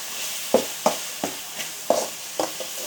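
A spoon stirring spices, garam masala and turmeric, into a tomato mixture in a pan for tomato bath, giving about seven soft scraping knocks at a steady pace over a faint sizzle.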